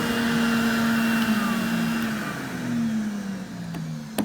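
Rotovac CFX ZX portable carpet extractor with both vacuum motors running, a loud, steady high-pitched whine and roar that holds for the whole stretch, pitch sliding slightly, with a few faint clicks near the end.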